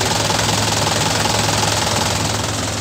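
A Mahindra 585 DI tractor engine idles close by with a steady, rhythmic diesel knock and an even low hum, no voices over it.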